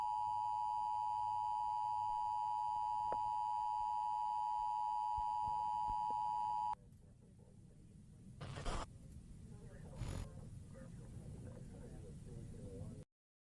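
An emergency alert system warning tone in a horror piece sounds as a loud, steady electronic sine beep for about seven seconds, then drops away to low rumbling background with a couple of brief bursts.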